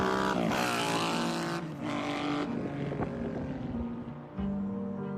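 A loud, revving three-cylinder cafe racer motorcycle engine roars continuously, rising and falling in pitch with throttle blips, heard up close without any talking.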